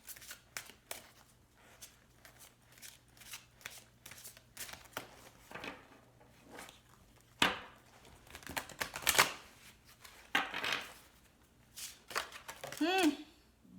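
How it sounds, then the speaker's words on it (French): Oracle cards are shuffled and handled during a tarot-style love reading. Crisp papery riffles and taps come in short irregular bursts, close up and fairly quiet, with gaps between them. "Je vais tirer des cartes oracles."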